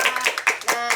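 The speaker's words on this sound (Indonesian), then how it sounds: "Tepuk tangan buat kita semua." Children in a classroom clap their hands together, about five quick, close bursts in a fast rhythm, lively and fairly loud, with young voices mixed in.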